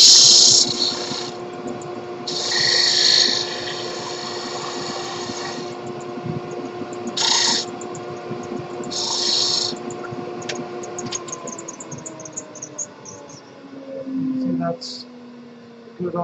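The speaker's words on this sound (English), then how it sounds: "this is the last piece here that needs to be sanded down" Sanding a pen blank on a lathe for a top pen with a medallion: a steady motor hum runs throughout while bursts of gritty abrasive hiss come and go in several separate passes, fairly close and loud.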